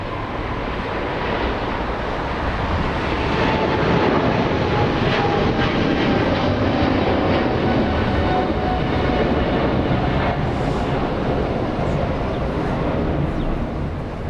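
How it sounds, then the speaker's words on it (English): Philippine Airlines flight 113, a Boeing 777 with twin GE90 engines, takes off from Los Angeles International Airport with a sustained, loud, broad jet roar holding steady throughout, no voices over it. "Philippine Airlines 113 flying to Manila, powered by a couple of GE90s."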